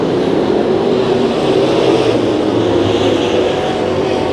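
Sport Mod race cars at Santa Maria Raceway during a heat race, a loud, continuous roar of engines on the dirt oval with a dense, steady rumble and no clear gaps.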